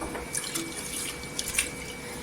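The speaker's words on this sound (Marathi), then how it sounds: "ह्याच्यामध्ये आपण पाणी टाकून घ्यायचं." Water runs into a pot of rinsed mixed dal to soak the lentils, a steady splashing pour with faint drips, fairly close and continuous, with no talking.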